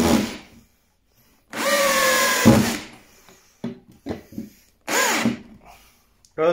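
A Parkside PABS 20-Li D5 cordless drill drives a 12 cm screw into a wooden rafter, whirring in several close, loud bursts with quiet pauses and small knocks in between.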